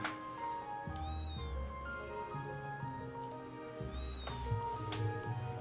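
A cat in Trails of Cold Steel 3 gives two clear, plaintive meows a few seconds apart over soft background game music, fairly close and with no talking.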